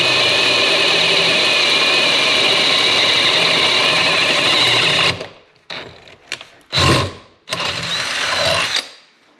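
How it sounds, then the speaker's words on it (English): A drill press drilling a 7/16-inch hole in metal runs with a steady, loud grinding whine for several seconds, then stops and restarts in a few short bursts. "This is my drill press, by the way."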